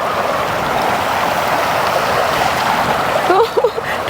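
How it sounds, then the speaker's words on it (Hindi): Cold, clear Monkey Creek on the road from Te Anau to Milford Sound in New Zealand's South Island, rushing as a steady broadband stream close by, with a few louder splashes near the end. "This is Monkey Creek, most purest water"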